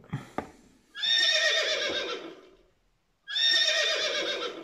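Two long electronic horse whinnies play from a toy, separated by a brief pause, after a couple of small clicks.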